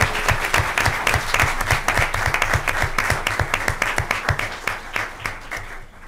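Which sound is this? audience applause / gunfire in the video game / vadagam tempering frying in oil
audience applause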